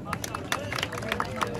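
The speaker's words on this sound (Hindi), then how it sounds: "उनके लिए तालियां।" Applause at a goat show in Faisalabad for the head of a breeding centre: a crowd claps steadily and unevenly for under two seconds over a background of crowd chatter.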